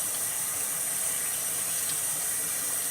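A faucet runs in a steady, even hiss while hands are rinsed under the stream, with no voices over the continuous water.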